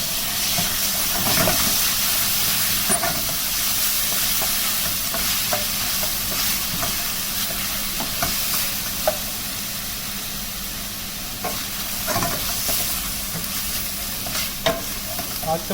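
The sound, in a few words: tomatoes frying and being stirred with garlic and ginger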